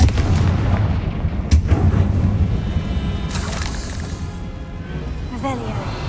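The Confringo blasting spell fires in the video game Hogwarts Legacy with booming, rumbling explosions amid game sound effects, while a voice speaks over the blasts.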